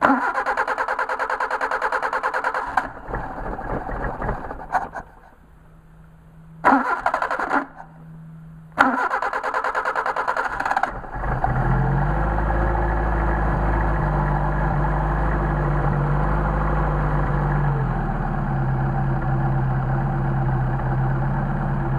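A Mercedes 190SL engine fitted with Solex carburetors turns over in several cranking bursts with short pauses, then catches and settles into a loud, steady, close idle with no talk.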